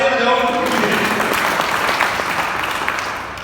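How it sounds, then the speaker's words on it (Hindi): Audience at a live comedy and dance stage show applauding loudly, a dense, steady wash of clapping that fills the whole stretch and tapers slightly at the end. "जोरदार ताली बजाओ।"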